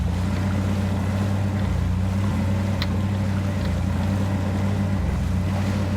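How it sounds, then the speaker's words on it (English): A truck in the Spintires MudRunner game on the Kepler Trails map, its wheels spinning in mud: a continuous low engine drone with a rough, churning wash on top and no talking. "We're just going to start spinning now from mud"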